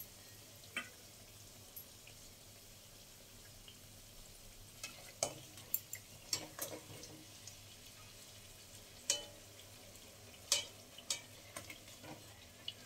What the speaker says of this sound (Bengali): লুচিগুলো একটু লাল লাল করে ভেজে নেব।